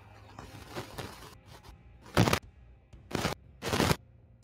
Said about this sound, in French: Il y a les feux d'artifice et tout.